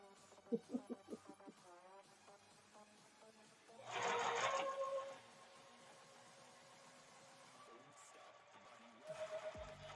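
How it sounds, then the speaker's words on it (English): An all-metal, high-stitch industrial sewing machine whirs in a short, fairly loud burst, then starts again briefly near the end, with a voice talking before and between the runs. "this machine here, because it's all metal construction and because it's a high stitch machine, it is considered an industrial machine"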